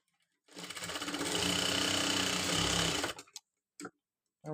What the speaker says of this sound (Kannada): ಒಂದು ಲೈನ್ ಹಾಕ್ಕೊಂಡೆ ನೀವು ಸ್ಟಿಚ್ ಮಾಡ್ಕೊಳ್ಳಿ